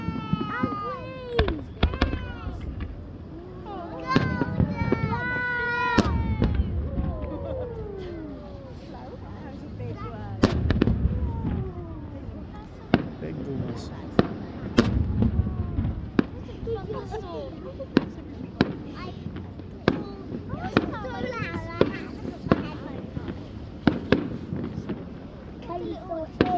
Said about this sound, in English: I can hear the fireworks.